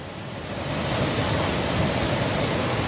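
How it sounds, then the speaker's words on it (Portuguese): Buettner waterfall in Brusque pours steadily, a broad, even rush of falling water that fills the scene without pause and with no voices. "Voltando para a cachoeira"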